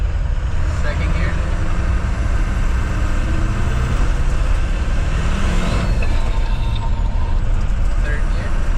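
A 6.0 Powerstroke diesel pickup truck with a triple VGT turbo setup accelerating through the gears, a loud, continuous low engine roar with rising turbo whine, close and steady throughout.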